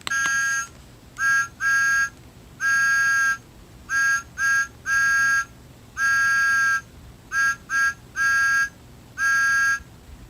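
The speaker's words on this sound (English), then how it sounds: "Let's see if his whistle still works." Thomas the Tank Engine toy whistle sounding in a run of clean electronic toots, short and long bursts in an uneven pattern, clear and close over a faint hiss.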